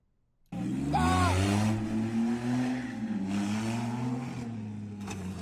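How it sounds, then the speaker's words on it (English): A car at a car meet starts a donut run, its engine suddenly roaring up from near silence into a loud, sustained, fluctuating drone with pitch swings as the throttle is worked. "We have a car doing donuts at a car meet."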